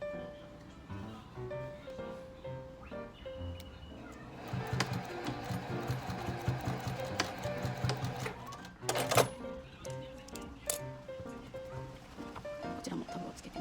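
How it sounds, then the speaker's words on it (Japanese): A sewing machine stitches a leather smartphone shoulder pouch with a tab, making a faint, fast, steady mechanical rattle that stays close but quiet throughout, with light handling clicks. "こちらもタブをつけて7ミリ縫います。"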